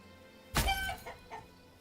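Chickens in the medieval city-building game Manor Lords give a short burst of clucking, a single loud squawk followed by two softer clucks, heard alone against quiet ambience.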